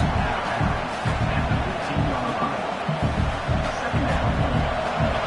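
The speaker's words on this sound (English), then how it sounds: "the crowd coming to life here, trying to help this defense down in the red zone" A stadium crowd at a football game swelling into a continuous roar of cheering and shouting, loud and distant-wide, with a commentator's voice faintly mixed in.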